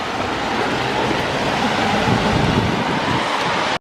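Strong wind gusting outdoors ahead of a storm, a steady loud roar of buffeting noise filling the whole stretch with no voices, cutting off abruptly at the very end.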